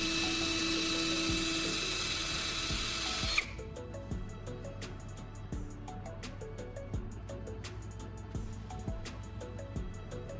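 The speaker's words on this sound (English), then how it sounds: "I'll use my drill to make 2 intersecting holes at an angle" An electric drill bores angled intersecting holes. A loud, steady whine runs for several seconds and then stops, followed by quieter clicks and light handling knocks nearby.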